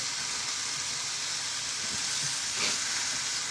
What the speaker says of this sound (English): But I'm just searing both sides.